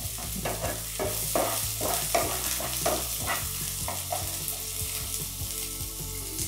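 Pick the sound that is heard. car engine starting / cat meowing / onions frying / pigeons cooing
onions frying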